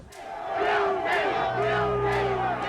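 A largely white crowd in a suburb erupts after the O.J. Simpson not-guilty verdict, loud massed shouting and whooping voices rising and surging in overlapping waves, close and sustained.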